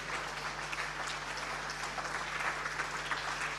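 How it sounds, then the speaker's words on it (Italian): Steady applause from an audience at a Veneto Paralympic sports gala, honoring fishing team winner Granaglia Alfredo of Pescatori Padovani, soft and diffuse over a constant low hum. "Un grande applauso per Granaglia Alfredo di Pescatori Padovani SD."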